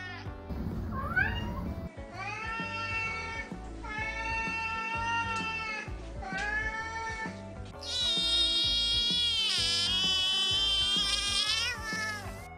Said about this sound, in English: For anyone who has ever been around a Siamese cat, you know fully well just how vocal these cats are.